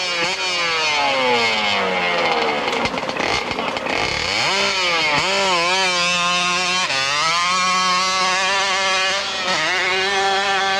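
A Kawasaki-powered motorcycle climbs a hillclimb track in Monson, Massachusetts at a 1996 AMA event, its engine screaming loud and close, revving up in rising sweeps, bogging briefly, then wailing on through repeated gear pulls.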